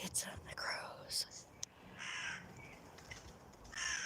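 Crows cawing: several loud, harsh caws scattered through the clip, some overlapping, with hushed whispering voices mixed in.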